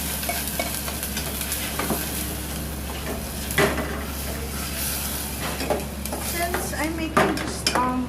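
A spoon stirs stewed tomatoes into a sizzling soup pot on the stove, repeated scraping and clinks against the metal over a steady low hum and faint frying hiss.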